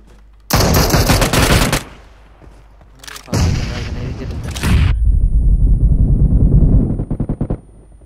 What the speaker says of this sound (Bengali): ব্যাকআপ ফায়ার দেন ব্যাকআপ ফায়ার দিয়ে দিতে হয়